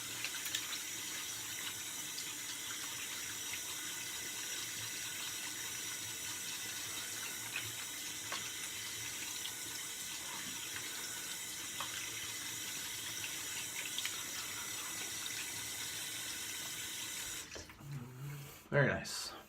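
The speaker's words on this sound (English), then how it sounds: "Cold water rinse." A tap runs steadily for a cold-water rinse during a wet shave, a continuous close hiss of flowing water that stops just before the end.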